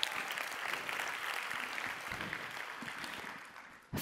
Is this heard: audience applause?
yes